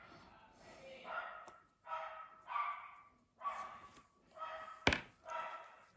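Upset dogs bark indoors in a string of roughly six separate, fairly faint yips and woofs at even intervals, with a sharp thump near the end.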